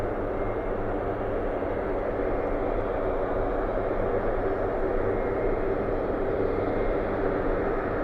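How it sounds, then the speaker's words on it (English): Hercules turboprop aircraft taxiing at RAF Mildenhall at sunset, a steady, distant engine drone and roar that stays constant throughout. "it's probably the sound from the Hercules aircraft coming round and"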